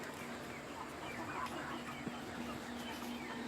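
Chickens in a transition coop for growing birds, clucking in a steady, busy stream with a continuous background murmur and one brief knock midway.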